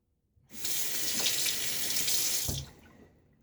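A tap gushes steadily into a sink for about two seconds while a Gillette Tech safety razor is rinsed under it, then shuts off, leaving a brief drip and quiet.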